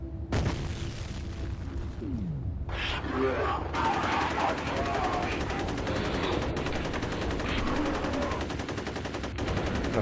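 Automatic gunfire in F.E.A.R. rattles in sustained bursts with booming impacts, dense and loud across the whole stretch, and a voice talks now and then beneath the shooting.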